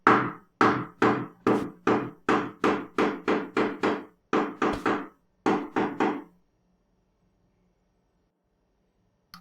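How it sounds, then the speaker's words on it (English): Hammering next door, with roughly fourteen sharp, evenly spaced wooden knocks in a steady rhythm, then a pause and a faint low hum with no voices. "someone's doing some hammering"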